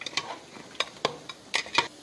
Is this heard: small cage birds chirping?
no